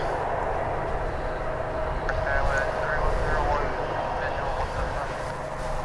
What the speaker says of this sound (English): That, of course, is a 777.